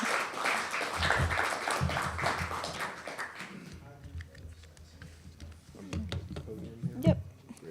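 Audience applause for a lecturer at a lunchtime lecture, a burst of clapping mixed with voices that gradually thins out into scattered claps and talk.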